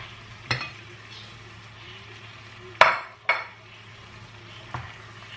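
Chopped tomatoes sizzle softly in a pan while a utensil clanks and scrapes against it a few times.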